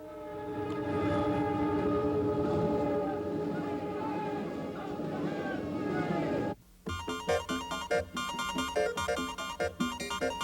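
A Union Pacific train carrying nuclear warheads rolls along the railroad in 1984, a loud sustained rumble with horn-like tones, then cut off abruptly and followed by a rhythmic musical section.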